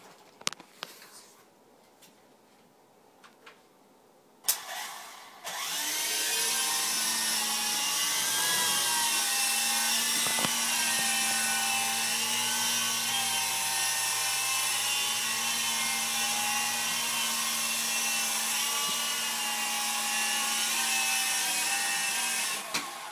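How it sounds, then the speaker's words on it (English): A remote-controlled toy helicopter spins up after a few quiet handling noises, then its high, whining rotor and motor drone hover steadily and loudly, close by, for the rest of the clip. "Turn on the helicopter."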